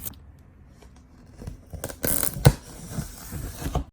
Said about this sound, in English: So we're gonna go ahead and cut the box open.